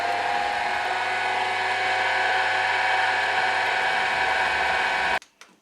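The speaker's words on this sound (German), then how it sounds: "Ich habe jetzt einen ganz feinen Zentrierbohrer montiert und mit dem machen wir uns erstmal ein Zentrum." A fine center drill bit bores into the intake manifold of an Audi 100/A6 C4 V6 engine, giving a steady, close, high-pitched whine that holds for about five seconds and then cuts off abruptly.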